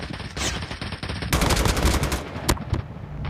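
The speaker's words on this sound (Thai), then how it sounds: "ปืนกลก็ได้ยิง" Sustained machine gun fire in the mobile shooter game Call of Duty Mobile, a loud, dense stream of rapid shots that holds steady for several seconds over busy game noise.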